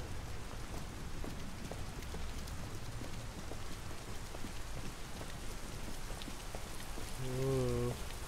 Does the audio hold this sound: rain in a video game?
yes